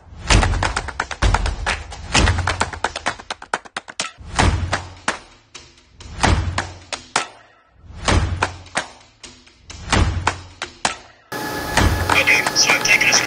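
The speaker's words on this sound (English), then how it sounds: "Okay, I'll go and remove the guard." Repeated loud thuds and knocks come from a guard being removed from the coating unit of a Heidelberg printing press, arriving in clustered bursts separated by brief pauses, with a steadier mechanical noise at the very end.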